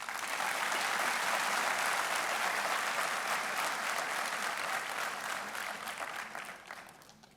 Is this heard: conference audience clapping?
yes